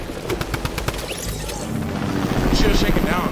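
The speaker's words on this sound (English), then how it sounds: "Oh, we got a chopper." A helicopter's rotor chops in a rapid rhythmic thud, with a few quick bursts early on, then becomes a rising steady whir in a battle royale squads game, under game sounds.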